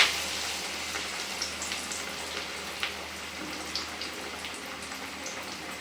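Spinach vadai deep-frying in hot oil for a tea-shop style snack, a steady dense sizzle and crackle with small popping bursts, close and alone without talk.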